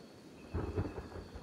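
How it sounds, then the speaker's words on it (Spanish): Rain and thunder in the video game Kenshi, with a steady wash of rainfall and a low rumble of thunder swelling midway, no talking. "aquí se acaba esta lluvia que, a ver, más que molesta, es fea, tío"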